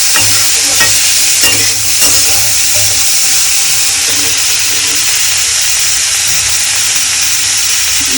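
Ingredients stir-fry in a pan ahead of the cabbage, giving a loud, close sizzle and steamy hiss, with spatula scrapes and clatter early on before the frying settles into a steady roar.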